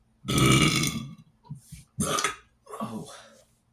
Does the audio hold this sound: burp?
yes